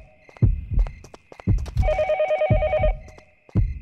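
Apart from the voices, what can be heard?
telephone ringing in video game Yomawari: Night Alone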